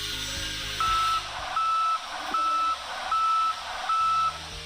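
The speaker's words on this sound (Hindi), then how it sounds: "इसके साथ साथ बीप की आवाज भी सुनाई देती है।" A vehicle instrument cluster warning chime signals DPF regeneration, sounding five evenly spaced steady beeps over a constant engine hum.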